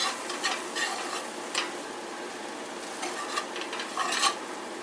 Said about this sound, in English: you're going to slowly add in your flour and mix